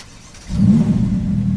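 A 2020 Ferrari F8 Tributo engine fires up with a sudden deep roar after a quiet moment, then holds a low, throaty rumble close by.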